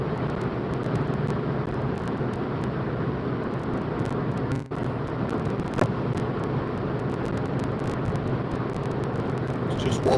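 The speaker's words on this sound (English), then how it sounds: "Just water spray from the car in front." Steady hiss of water spray thrown up by the car ahead on a wet, windy motorway at about 70 mph, heard from inside a Vauxhall Astra as a constant broadband roar with road and engine rumble.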